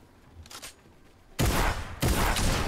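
Gunfire in the video game Fortnite: a faint burst first, then two loud, close blasts in quick succession with a harsh, noisy crack and ringing tail.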